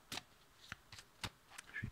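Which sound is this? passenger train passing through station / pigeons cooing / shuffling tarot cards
shuffling tarot cards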